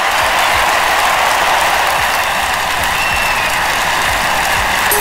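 Loud, dense applause from a large stadium crowd in an Olympic Games video game, steady and continuous throughout, with no pauses.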